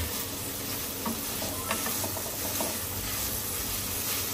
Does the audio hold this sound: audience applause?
no